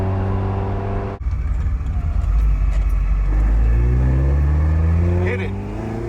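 Dino Evo restomod car driving and accelerating, with a loud, steady engine drone that rises in pitch as it gathers speed, heard from inside the cabin.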